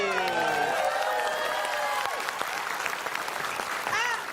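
Studio audience at a television quiz show applauds loudly with cheering and whoops, close and sustained, while a voice talks over the start before the clapping tapers off.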